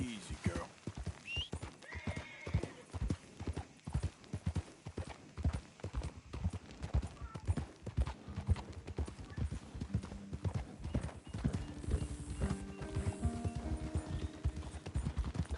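Horse hooves clip-clop in a steady trotting rhythm in Red Dead Redemption 2, with a whinny rising over them, close and continuous under game sounds and spoken voices.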